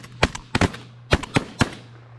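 Shotguns fire during a goose hunt in Oregon, four or five sharp, loud blasts in quick succession within about two seconds, close by and outdoors.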